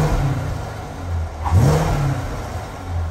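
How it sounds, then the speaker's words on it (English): A yellow 2019 Corvette Stingray 1LT convertible idles with a low engine rumble, then gives a single quick rev that rises and falls at around mid-clip before settling back to a steady idle. "Nice sound to the motor."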